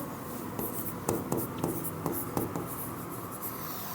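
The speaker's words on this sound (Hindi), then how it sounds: "मैं अभी तुमको लिख देता हूँ" A teacher writes on a classroom board during a chemistry lesson, giving a series of short chalk or marker strokes and taps in an uneven rhythm. A faint voice hums underneath.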